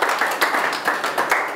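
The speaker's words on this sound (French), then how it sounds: "Acclamation encore pour le Seigneur" Church congregation claps in praise during a French-language sermon, a brisk, fairly loud run of many hands with a few sharper individual claps standing out over the short burst.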